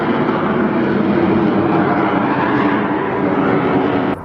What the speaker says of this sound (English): Before the next jet comes